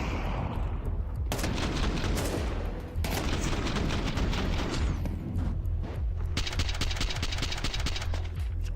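Rapid gunfire bursts in a Counter-Strike match at a BLAST Bounty 2025 finals, dense loud volleys of shots with engine-like rumble underneath, pausing briefly around the third second before firing resumes in quick crackling sequences.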